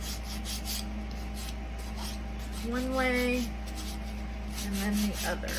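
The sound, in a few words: sander sanding wooden basket edges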